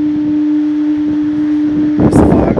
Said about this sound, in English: There's the foghorn.